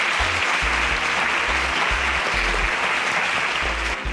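Steady, dense applause from a studio audience at a televised Nigerian competition show, clapping continuously at close range for a few seconds with no voices on top.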